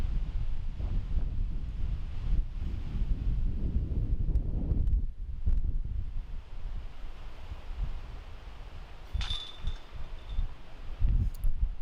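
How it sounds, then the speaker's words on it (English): Strong wind gusting across a disc golf course during a tournament, heavy rumbling buffeting that rises and falls, loudest in the first half, with a faint brief tone later. "It is so windy."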